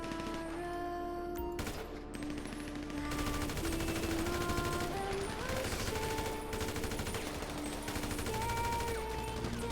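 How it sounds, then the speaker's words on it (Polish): Bursts of automatic gunfire rattle in GTA Online, dense rapid shots sustained over a busy game soundscape with music-like tones underneath. "Chyba strzelamy do niego."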